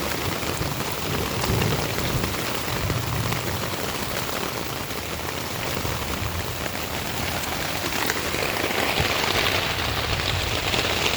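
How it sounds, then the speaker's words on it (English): Heavy rain pouring down steadily on a tent in the woods, with low rumbles of thunder rolling underneath the constant hiss. "Hear that thunder? It's crazy."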